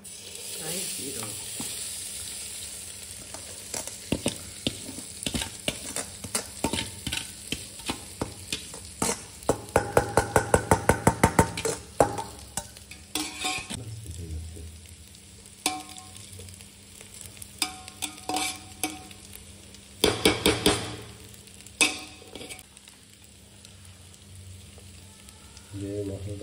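Rice tipped into a biryani pot is stirred and fried, giving scraping, rattling stirs and bursts of soft sizzling. They come in uneven rounds, busiest near the middle, with quieter pauses between and no clear voices.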